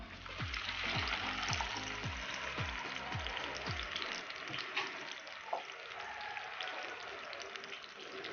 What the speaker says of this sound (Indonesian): Ini minyaknya sudah panas. Sekarang kita masukkan sambal baladonya.